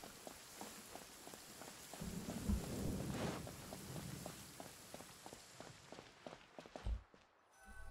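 Thunderstorm in the video game Genshin Impact, with a broad rolling rumble of thunder swelling in the middle over a steady wash of rain, and a regular pattern of footsteps running through it.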